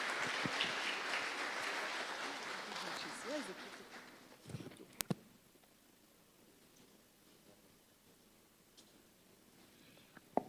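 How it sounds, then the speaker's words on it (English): Applause at an official health conference welcomes a speaker to the podium, fairly close and lively for about four seconds, then thinning out into a quiet room with a few scattered handling noises. "A round of applause for her, please."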